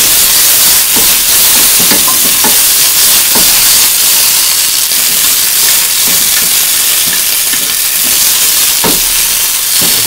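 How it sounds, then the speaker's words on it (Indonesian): Vegetables sauté in a hot pan with a loud, hissing sizzle that runs without a break, punctuated by repeated scraping and tapping stirs from a utensil. "Jadi untuk sayurannya kita tumis."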